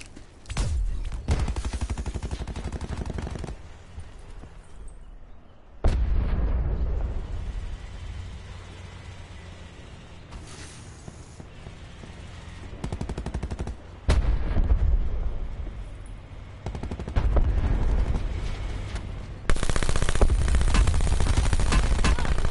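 Sustained bursts of rapid video game gunfire crackle in long stretches, with pauses between volleys and a heavy, noisy low rumble throughout.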